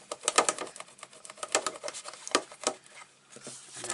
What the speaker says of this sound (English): I'm just going to go in with my bone folder